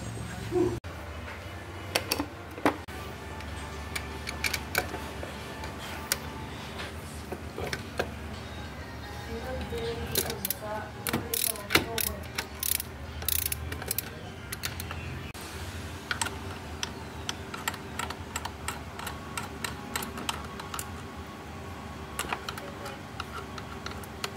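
A ratchet wrench backs out two 10mm bolts on the manifold of a Suzuki Burgman scooter, giving sharp irregular clicking and ticking bursts close by, with softer metallic handling sounds between them.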